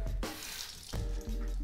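Tap water running and splashing while shaving soap is lathered, a steady broadband rush with a couple of brief louder bursts, close by and with no voices.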